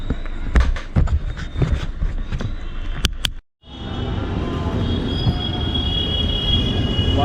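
A train at Ludhiana railway station clatters past. Sharp metallic squeals and knocks give way, after a brief gap, to a loud, continuous rumble of rolling wagons.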